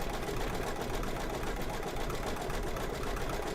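An embroidery machine stitching dots with variegated thread, a steady fast needle whir that stays constant and moderately loud, close by with no talking.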